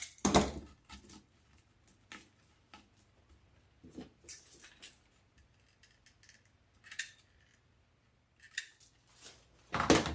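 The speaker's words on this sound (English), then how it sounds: "And then cut the zip tie." Scissors cutting a zip tie on a mesh and floral wreath: quiet, sporadic snips and clicks with light handling rustles between them, close to the microphone and without talk.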